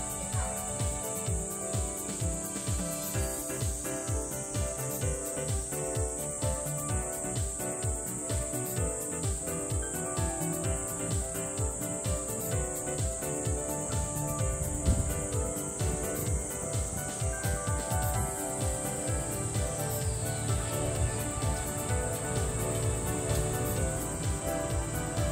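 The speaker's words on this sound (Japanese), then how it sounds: "昼間で、結構セミがね鳴き始めてますね。" Minmin cicadas drone loudly and steadily in the daytime at a Seibu railway station platform in Japan, their pulsing calls continuous and close throughout with no talking.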